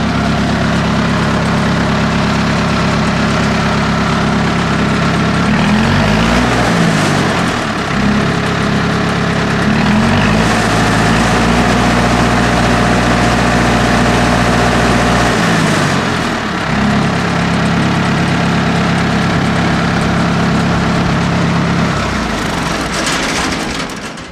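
A Miller Big 40 engine-driven welder's engine runs steadily at close range, idling with a deep drone that dips and changes pitch a few times, with no talk over it.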